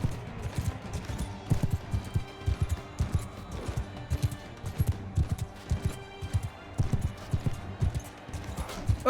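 Rhythmic hoofbeats of a ridden horse galloping in the video game Mount & Blade II: Bannerlord, a steady thudding clip-clop close up that runs throughout.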